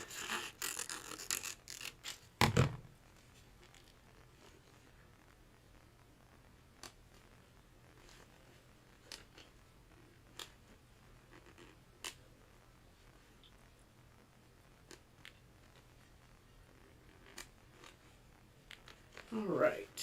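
Scissors trimming an iron-on transfer sheet, faint sparse snips spaced across a quiet stretch, with louder handling rustles at the start and end.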